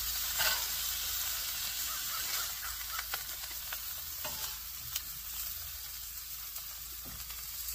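Steak searing in a pan, a continuous soft sizzle and hiss with scattered faint pops and crackles, heard quietly on its own.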